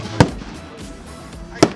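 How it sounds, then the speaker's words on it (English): Firecrackers set off at a fireworks shop, two sharp loud bangs about a second and a half apart with quiet between. "Firecrackers."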